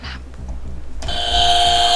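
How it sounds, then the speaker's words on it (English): A quiz show bell signals time is up, starting abruptly about midway as a loud ringing electronic tone that holds to the end after a quieter stretch of low background noise. "The bell is gone already."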